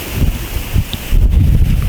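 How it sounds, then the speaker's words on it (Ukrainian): Strong wind on the Uzh River buffets the microphone in loud, low gusts that rise and fall, swelling harder toward the end. "І вітер дуже розгулявся."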